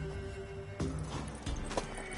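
A few hoof clops from a horse in The Witcher 3, sparse and moderately loud over a steady musical backdrop with low tones.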